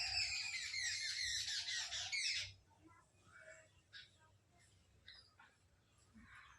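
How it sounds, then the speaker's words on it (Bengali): Birds squawk and call loudly close by on a cloudy village morning for the first couple of seconds, then fade to scattered fainter chirps over quiet background. "সকালবেলা এরকম পাখির আওয়াজ এটা গ্রামেই সম্ভব"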